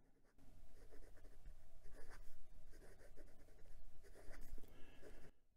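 A Wing Sung 629 piston-filler fountain pen with a fine 14k gold nib scratches across Clairefontaine 90 gsm paper in close, quiet strokes, rising and falling in short bursts, with no talking.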